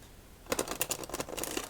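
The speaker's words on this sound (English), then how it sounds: "shuffle up this deck" A Shin Lim magic deck of playing cards is riffle-shuffled close by, a quick burst of crisp fluttering clicks lasting just over a second.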